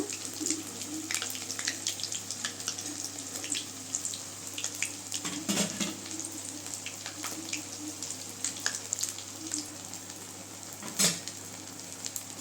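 Eggplant slices for Kathirikai 65 frying in hot oil, giving a steady close sizzle with scattered crackles and a couple of louder pops, with no talking.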